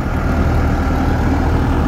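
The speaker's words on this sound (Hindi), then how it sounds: "और ये है जी ट्रैक्टर बॉबकैट।" A Bobcat tractor engine idles in a steady, continuous low rumble, close and fairly loud throughout, with no voices.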